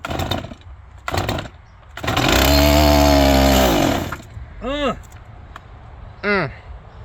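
A cold chainsaw runs in bursts, a close, loud rasping whine that revs up for about two seconds and then drops back to a rough idle, with a few revving surges around it and people talking nearby.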